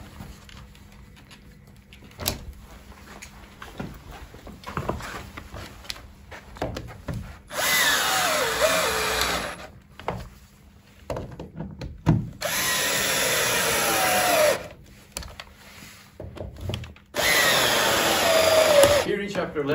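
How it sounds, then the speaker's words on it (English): A power screwdriver tightens screws on an acoustic absorber panel in three loud, close whirring bursts of a few seconds each, separated by quieter handling knocks and clicks. "the six screws in the inner absorbent are now tightened to level 17 on the screwdriver"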